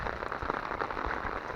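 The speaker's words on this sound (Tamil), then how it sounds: "மழை பேஞ்சிக்கிட்டே இருக்குல்ல" Steady rain falling on a town during the monsoon season, a dense, continuous hiss of drops spattering on hard surfaces, close and even throughout, with no voices.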